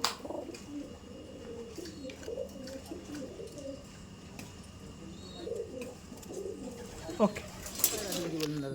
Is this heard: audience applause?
no